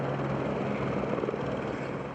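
Police helicopters land outside a convention center during a SWAT response, giving a steady loud whirring rotor drone that holds without break for two seconds, heard alone.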